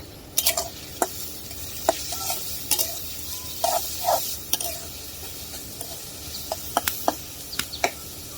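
Onions frying in a pan with a soft continuous sizzle, broken by scattered sharp scrapes and taps as a spoon stirs them, close and alone.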